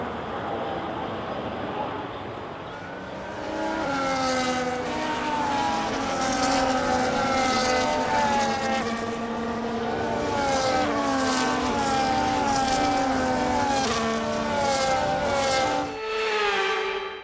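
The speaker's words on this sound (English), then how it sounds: "As all the cars take their positions on the grid" Race cars in an F1 video game roll through the formation lap, a steady layered engine whine with rising and falling pitch from several cars, loud and close, under a faint voice, ending with a brief shift near the end.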